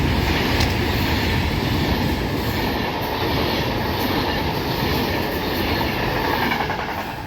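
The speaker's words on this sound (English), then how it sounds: "passing through now is is it the first Pendolino?" A Pendolino passenger train on the West Coast Main Line, running from Edinburgh Waverley to London, rushes through Wolverton station in a loud, close, steady roar with faint clickety-clack from the wheels and no talk.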